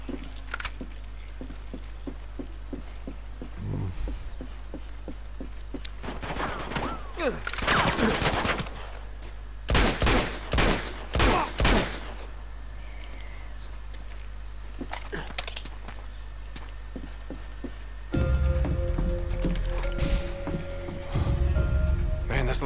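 AK rifle bursts in Uncharted 2: Among Thieves Remastered, with several sharp loud shots clustered in the middle of the stretch over a steady game hum, then a shift to other in-game noise near the end.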